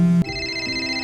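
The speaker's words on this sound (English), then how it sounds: "Dad, a mobile phone is ringing!" A mobile phone rings from inside a small red box found in a suitcase, a loud steady electronic ringtone with sustained tones after a brief sharp onset, close by with no talking over it.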